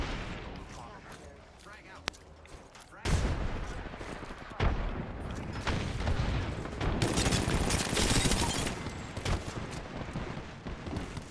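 Rapid bursts of RE-45 pistol fire in the Apex Legends video game, dense crackling shots rolling on for several seconds, with a player talking now and then over the action.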